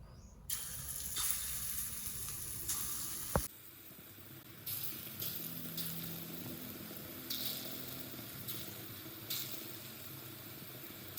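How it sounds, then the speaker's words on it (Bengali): Small vegetable fritters (bora) fry in hot oil in a home kitchen, giving a steady, hissing sizzle. A sharp click cuts in partway through, and the bubbling continues afterward in uneven bursts. "ছোট ছোট করে বড়াগুলো ভেজে নেব"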